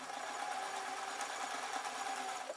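A sewing machine stitches across the top of a simple scarf-style blouse, giving a faint, steady mechanical hum and rapid needle rattle that runs continuously without pause.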